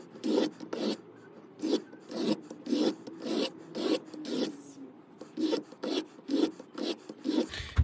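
Steady rasping strokes of a CIVIVI Perfrico knife blade drawn across a sharpener, about fifteen quick rhythmic passes close up, with no talking.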